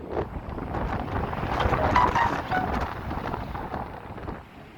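Strong wind buffets the microphone on a seafront promenade at Blackpool in cold rain with big waves, a loud continuous roaring rush that swells and eases without pause.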